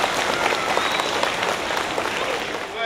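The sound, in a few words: students applauding at school rally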